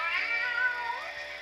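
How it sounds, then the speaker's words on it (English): A cat meows as a storybook sound effect, one drawn-out, rising-and-falling meow that is clear and close and stands alone without any talk. ""Meow," said Cat"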